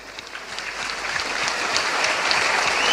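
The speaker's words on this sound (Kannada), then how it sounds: "ಆಡಿಯನ್ಸ್ ಮನಸ್ ಚಿಂದಿದ್ದು ಚಪ್ಪಾಳೆ ಕೊರೊಂದುಲ್ಲೇರು" Audience applause at the Pili Gobbu tiger dance event in Puttur, a dense wash of many hands clapping that swells steadily louder across the stretch, with no voices over it.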